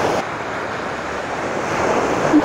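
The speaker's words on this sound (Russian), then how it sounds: "И немного шума, волн." Sea waves wash onto a beach at sunset in a continuous, loud broadband hiss with wind noise on the microphone and no voices.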